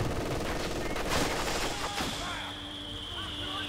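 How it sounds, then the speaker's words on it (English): MG42 machine gun in a Company of Heroes match, a dense burst of gunfire crackling under busy battle noise with explosions, sustained and fairly loud throughout. "Incendiary fireworks up from the MG42 here"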